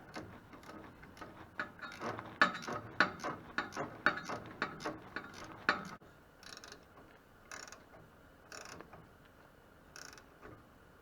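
A ratchet tightens bolts on a brake kit for a CJ5/M38A1/CJ6 Jeep or Willys, giving a series of close, quiet clicking bursts in a quick rhythm, then sparser clicks and handling sounds.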